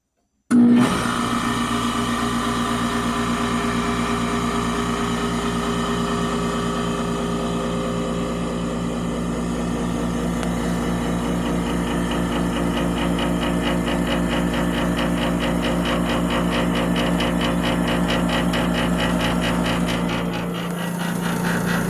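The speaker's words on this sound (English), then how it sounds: "let's get a better clip of that compressor coming on here" A 1965 Sears Coldspot 18,500 BTU window air conditioner's compressor runs steadily with a low mechanical hum and rattling vibration, close and continuous for about twenty seconds, with no talking.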